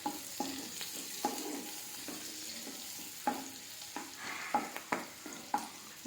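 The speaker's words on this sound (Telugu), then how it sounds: "ఉల్లిగడ్డ కొంచెం కలర్ వచ్చే వరకు వేయించుకుందాము" Sliced onion frying in a pan for a spicy egg curry, giving a steady sizzle broken by repeated scraping stirs every second or so, close and fairly loud, with no talking.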